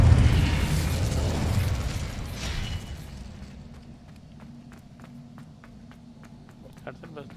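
Incendio fire spell cast in the Hogwarts Legacy video game, a loud whooshing fiery blast that swells and fades over a few seconds, followed by quieter rhythmic clicking mechanisms.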